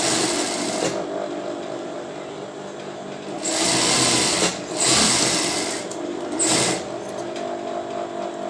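A sewing machine stitches a bra, its motor whirring steadily with brief louder surges in short bursts as the fabric is fed, close and alone.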